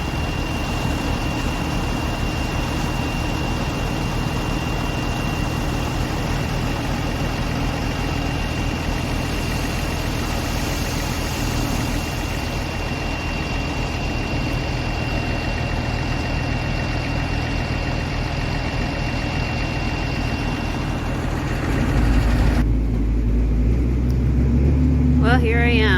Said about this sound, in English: here I am, driving the tractor through the mud.